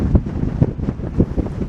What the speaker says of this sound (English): the wind's blowing out of the other side